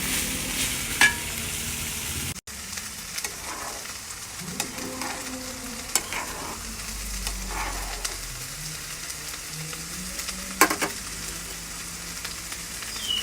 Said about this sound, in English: I'm frying the rice with the dry masalas, with the dry spices in ghee.